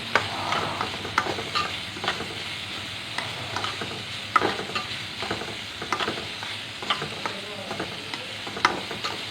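Kanthari chili leaves sautéing in a pan, a soft continuous sizzle with frequent light scraping and tapping from stirring, close and fairly quiet, without speech.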